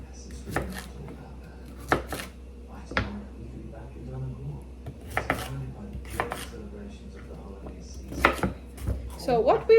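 A knife cutting large potatoes into cubes on a board in a home kitchen, a handful of sharp, separate chops spaced out, with clinks of utensils and dishes and a person talking between cuts.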